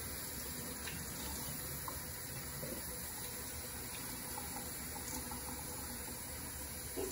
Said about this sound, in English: now I just need to wash my hands here with chlorhexidine